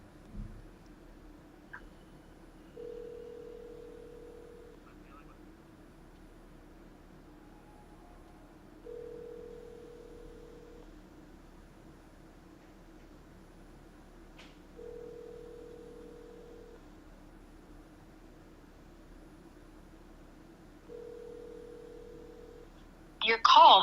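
An outgoing phone call rings back in the earpiece, four evenly spaced steady tones about six seconds apart, faint over low background hiss, with a brief louder noise at the end.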